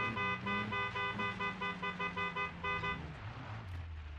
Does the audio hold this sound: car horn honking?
yes